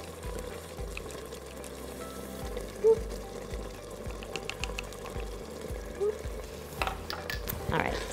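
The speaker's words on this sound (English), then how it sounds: "you're still on saute, so your chicken is starting to cook" Chicken sautéing with ginger in a pressure cooker on the sauté setting, a low steady sizzle under repeated scraping and stirring clatter from a utensil, close and moderate in level.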